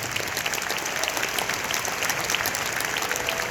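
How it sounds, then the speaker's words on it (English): An audience at a charity stage event in Singapore claps steadily throughout, a dense, even patter of many hands at moderate volume with no voices over it. "Can we have another round of applause for them?"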